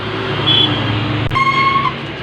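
Traffic rolls past a road construction site on an Indian state highway, a steady loud engine rumble with tonal whines and a brief sharp knock midway.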